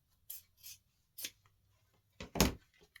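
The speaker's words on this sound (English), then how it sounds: "then I will just cut it down a little bit more" Scissors snip through ribbon while trimming a bow's tails: about five short, crisp cuts in uneven clusters, close and fairly quiet, with no voices.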